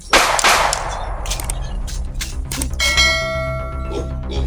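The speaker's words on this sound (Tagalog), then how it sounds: "Ay, putok." A single loud gunshot cracks near the start, then a long ringing, metallic decay follows, with a second clanging hit partway through.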